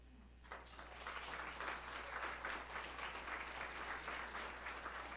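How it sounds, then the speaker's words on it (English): Keynote audience applause starts after a brief quiet moment and swells into steady, full clapping from a large crowd, holding evenly to the end. "So hopefully you'll give her a geeky round of applause."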